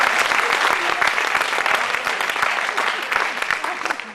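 Audience at a Hindi kavi sammelan (comic poetry evening) in Hartford, Connecticut applauding steadily, a dense, sustained wash of clapping that stays loud throughout before easing slightly at the end.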